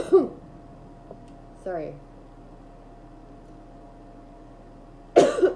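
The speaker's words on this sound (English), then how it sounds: "it's unbelievable how much I cough" A person coughs and clears their throat in a quiet room, a few short close bursts spaced apart with long near-silent gaps, and a brief spoken word in between.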